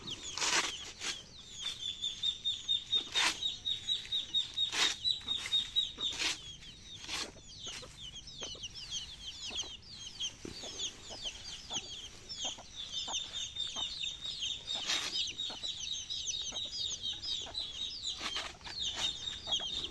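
Several chickens clucking and chattering nearby, with repeated sharp calls, rustling and wing flaps, plus a high thin chirping layered throughout.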